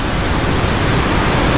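Strong river current rushing in a steady, loud broadband roar, with no pause and no voices over it.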